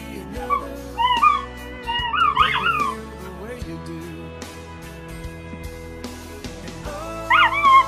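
A West Highland terrier whimpers and lets out high yips in a few short bursts over steady background music, fairly close and moderately loud.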